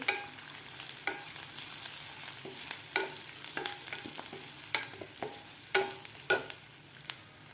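Crushed peanuts frying in oil in a pan, with an irregular series of sharp spatula scrapes and stirring knocks over a soft steady sizzle, close and fairly quiet.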